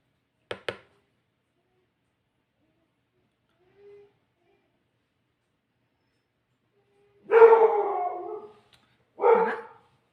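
A house dog gives two close barks, one longer and one short, a couple of seconds apart, after a quiet stretch broken only by faint clicks.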